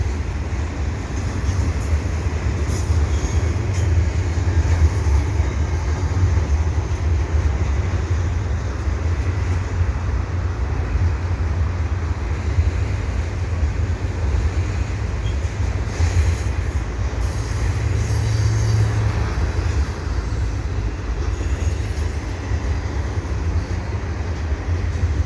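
A CN intermodal freight train rumbles steadily past at Dorval at dusk for a long stretch, a deep continuous roll with faint wheel squeals and clatter, fairly close and unbroken.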